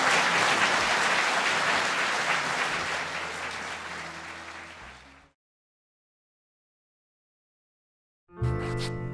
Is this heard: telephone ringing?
no